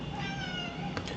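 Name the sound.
cat meowing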